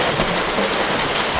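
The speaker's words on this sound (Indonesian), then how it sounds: "Wah, hujan. Saya tertahan di sini." Rain falling at Situ Lengkong lake in Panjalu, Ciamis, a loud continuous hiss of downpour with a dense wash of drops and no voices.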